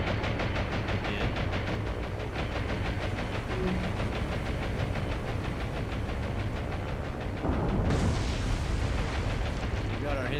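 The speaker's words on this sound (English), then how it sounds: "Both torpedoes hit, which is good." Torpedo hits bursting against ships in the naval combat game War on the Sea, a dense, continuous rumble of blasts and low booms that swells louder near the end, with speech faintly underneath.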